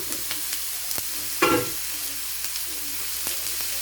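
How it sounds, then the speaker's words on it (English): Sri Lankan prawn curry with tomato is stirred in a pan over steady close sizzling, with one brief, louder scraping stir partway through. "I'm just mixing it in so the flavors mix in"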